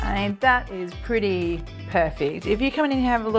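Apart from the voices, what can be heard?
No distinct noise like a dog, phone or traffic.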